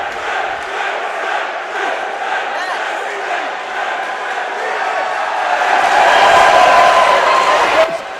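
Crowd at a PFC 17 MMA bout keeps up a sustained roar and chant for fighter Dre, swelling louder toward the end, with commentators talking over it.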